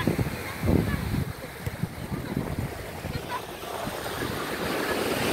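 Ocean waves wash steadily onto a beach at Padang in the late afternoon under gusty wind noise, a continuous broad roar with surges rising and falling.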